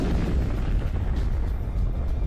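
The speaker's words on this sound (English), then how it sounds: "So these explosions are not small." Deep, sustained rumbling explosion roar, heavy low-end booming that churns continuously without a clear single blast, loud and alone with no voices.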